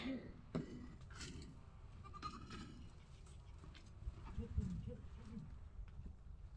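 A goat bleats faintly on a farm where young kids are being weaned: one or two short, wavering calls stand out over quiet outdoor background noise with a few soft knocks.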